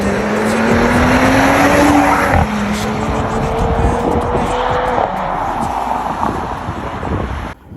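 Mercedes-AMG sports car with a small V6 engine driving past outdoors, its engine roaring loudly with rising and falling pitch as the tires squeal, buffeted by wind noise on the microphone.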